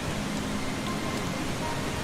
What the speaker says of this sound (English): It's the first time it's rained in the game.